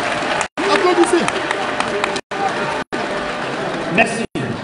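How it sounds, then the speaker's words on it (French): A crowd at a political meeting breaks into applause, a dense, loud wash of clapping and cheering with voices mixed in, cut by several brief gaps of silence. "Applaudissez."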